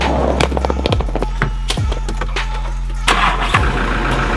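Inside a moving car on a drive toward a gas station, a steady low engine and road rumble runs throughout, broken by several dull thumps and bumps, fairly loud with no talking.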